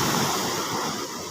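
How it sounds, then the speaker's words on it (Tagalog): Strong ocean waves crash and roar against the shore in a loud, steady surge of churning water with wind noise, and no voices are heard. "sa sobrang lakas ng alon"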